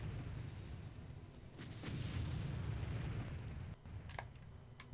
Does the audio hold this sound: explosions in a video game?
yes